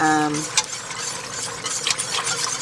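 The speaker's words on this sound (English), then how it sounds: "whisking, just to make sure you don't get any scorching with the milk" Milk, with half and half, being whisked in a pot on the stove makes soft, rhythmic scraping and swishing strokes, heard close up after a brief voice at the start.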